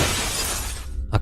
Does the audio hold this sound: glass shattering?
yes